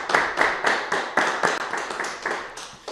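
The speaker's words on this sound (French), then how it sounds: "Je crois qu'on peut applaudir la venue du Père Noël tous." A studio audience claps for Santa Claus's arrival on a Christmas special, a fairly close burst of rhythmic hand claps lasting a few seconds with no voices.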